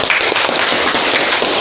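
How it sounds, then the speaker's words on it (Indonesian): A classroom group applauding, a dense burst of many hands clapping close and loud for under two seconds, with no talk over it. "tepuk tangan."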